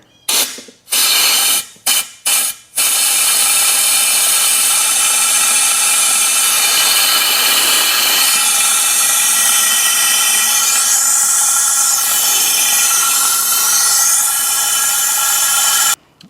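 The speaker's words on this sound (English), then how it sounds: "And when I do air, it's going to do a Venturi effect." Compressed air hissing steadily through a Venturi suction setup, draining power steering fluid from a 6.0 Powerstroke pump into an old oil jug; a few short bursts open it, then one long, loud continuous blast.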